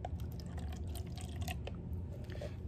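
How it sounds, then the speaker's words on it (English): Vinegar poured into a cup: a faint, close trickle and patter of liquid with small drip-like splashes throughout. "So I'm going to pour a little bit of vinegar into my cup."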